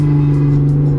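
A car engine holds a steady idle-like drone during a rev-matched downshift into second gear of a manual gearbox, loud and close, with no voices.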